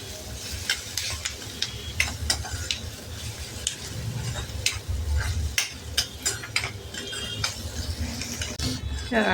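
Onions sauté in a generous amount of oil for Khandeshi kurdai bhaji, crackling steadily while a spatula scrapes and taps the pan in frequent irregular strokes, close and without talk.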